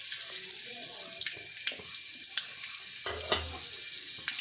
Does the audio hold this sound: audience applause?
no